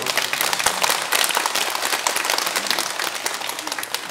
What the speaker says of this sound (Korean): 박수 치려면 크게 치세요.